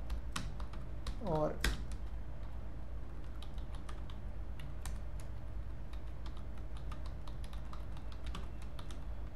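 Code being typed on a computer keyboard: a steady run of light, quick key clicks with a short spoken word early on and a low hum underneath.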